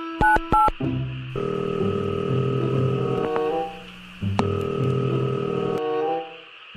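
A telephone's keypad gives a quick run of dialing tones, then a long ringback tone sounds in repeated bursts, fairly loud and close, with no talking.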